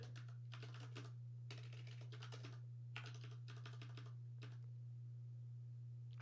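Typing on a computer keyboard, bursts of quick, light key clicks in short runs with pauses between them, faint and close over a steady low electrical hum.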